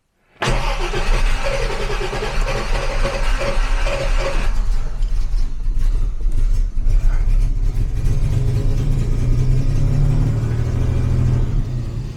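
A 1967 Jaguar Mark 2 engine cranks and catches, then runs loudly and steadily, settling into a deep, rumbling idle close by.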